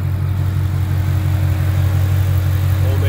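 A hand-built 5.2-liter Predator supercharged V8 in a 2021 Ford Mustang Shelby GT500 idles steadily, a deep, loud, continuous rumble with no revving.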